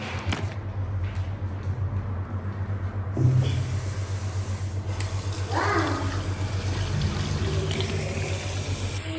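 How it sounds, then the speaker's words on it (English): Water runs steadily from a tap as something is rinsed under it, a constant close rushing that lasts throughout, with a faint low hum underneath and a few small knocks. "Rinse them properly, I already rinsed it."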